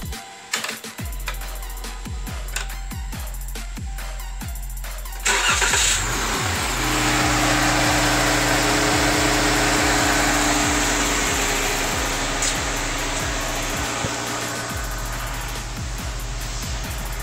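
A 2014 Jeep Cherokee engine cranks with a quick chugging starter rhythm, catches with a loud rise, then settles into a steady, close-up idle that gradually eases down.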